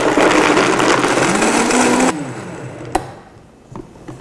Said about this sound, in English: I'm actually going to get and blend this here to give it a really good blend, a nice cream before we add all the water